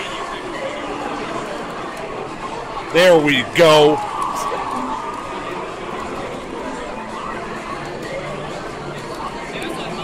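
A crowd at the EVO 2015 Tekken 7 tournament murmurs and chatters steadily in the background, with a commentator briefly speaking over it.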